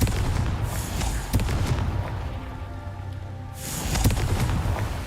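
Fiery Confringo blast spells in the Hogwarts Legacy video game, with heavy booming impacts and crackling explosive bursts, a roaring surge near the start and another near the end over continuous rumbling.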